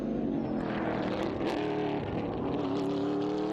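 A race car at COTA on its last lap works through the gearbox, a sustained engine roar with pitch steps and shifts as it moves through the gears, loud and steady throughout.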